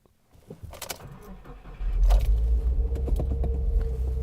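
A car is started for a drive. Keys jingle briefly, then the engine cranks and settles into a loud, close, steady idle rumble. There is no talking.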